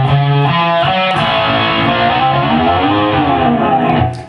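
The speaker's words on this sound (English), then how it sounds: "And then he uses the whammy bar and brings it down" Distorted electric guitar playing a rock lick, a note swelling up in volume and then dipping down in pitch with the whammy bar, loud and alone.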